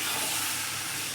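Lifting the lid off a pot of cooking meat releases a loud, steady hiss of steam that fills the moment up close.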